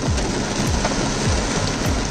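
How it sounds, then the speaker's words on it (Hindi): Heavy rain pours onto a car in a dense, loud, close hiss, with soft low thumps now and then. No one speaks. "देखो तो बारिश कितनी भयंकर है।"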